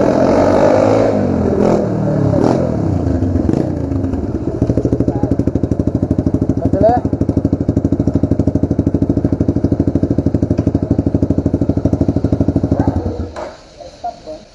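Yamaha Fazer 250 motorcycle being test ridden, its engine running loud and close with a steady, rapid pulsing throb and a few rises in revs, then cutting off abruptly near the end.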